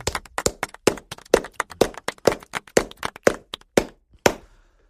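Sparse, close hand claps fall in an uneven rhythm, around twenty distinct sharp claps that thin out and stop near the end, leaving brief silence.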